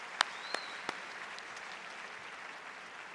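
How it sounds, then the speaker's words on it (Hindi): An audience at a business success day event in Delhi applauds, giving a steady, fairly soft wash of clapping with a few sharper individual claps at the start. "मेरे ग्रेट अपलाइन मिस्टर एस.बी. वत्स, मैं चाहूँगा कि एक बार उनके जोरदार तालियां हो जाए"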